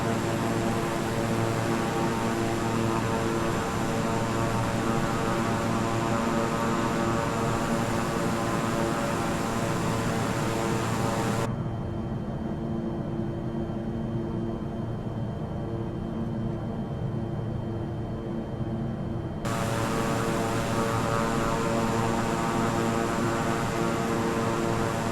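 Steady, loud drone of a Beechcraft King Air 350i's turboprop engines in flight, continuous throughout with a muffled stretch in the middle where the higher tones drop away.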